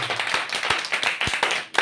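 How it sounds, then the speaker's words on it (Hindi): A church congregation claps hands in an uneven burst of sharp, close slaps that rise and fall over a couple of seconds, without talk. "ताली बजाओ अपने"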